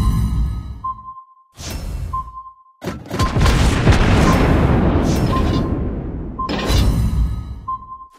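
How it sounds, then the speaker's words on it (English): Torpedoes exploding in the naval combat game World of Warships Blitz, a British light cruiser battle: loud rumbling blasts and whooshes over a sustained roar, broken by brief gaps with a steady tonal beep underneath. "Torpedoes!"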